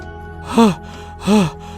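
A man breathes out in two heavy, voiced gasps about half a second apart, close and fairly loud over a quiet background, as though out of breath after running through a forest at night.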